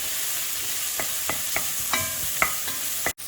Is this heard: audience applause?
no